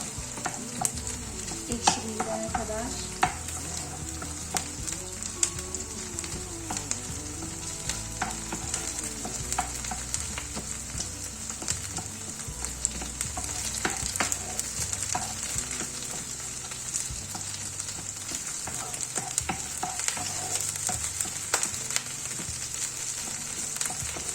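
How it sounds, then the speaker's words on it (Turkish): Tomato paste stirred into onions frying in a pan for a purslane dish: a steady, close sizzle with scraping spoon strokes and a faint tonal hum underneath, and no talking. "Salçamızı da güzelce çevirelim soğanımızda."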